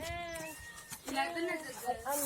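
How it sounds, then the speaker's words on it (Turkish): A cat meows several times indoors, with short drawn-out cries between bits of background noise, moderately close and not loud. "Sana miyavlıyor lan bir şey de geliyor bak."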